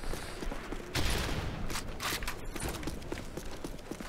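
MP9 submachine gun fire in a first-person shooter on the Bakaara map: short, rapid bursts stand out against busy in-game ambience and footsteps, with no talking.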